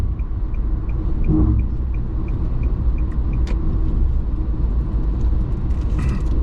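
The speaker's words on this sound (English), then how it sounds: "I'm gonna pass this truck here." A car driving along a road and overtaking a truck, heard from inside as a steady loud engine and tyre rumble, with a faint regular ticking like an indicator through the first few seconds.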